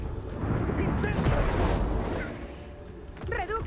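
Confringo spell explosions in Hogwarts Legacy rumble and boom in a sustained, heavy burst, with a further blast near the end, while a voice speaks over the combat.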